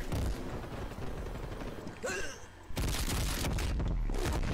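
Dual pistols fire in a multiplayer first-person shooter match, loud rapid gunshots in bursts amid dense game noise and explosions, with a brief pause in the middle before the barrage resumes.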